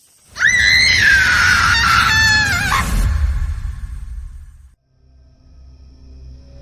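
A woman's long, piercing scream of fright, held for a few seconds and wavering before breaking off, followed by a low rumble fading out.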